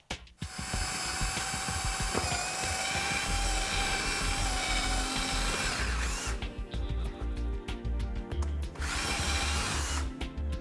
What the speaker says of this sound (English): we're just going to mark the holes and drill them all the way through to the back side